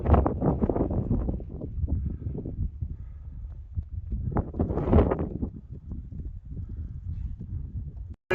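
Strong wind buffets the microphone on the summit of Fairfield, a mountain top, rumbling loud and low in gusts that rise and fall throughout, with no talk.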